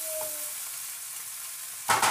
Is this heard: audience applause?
no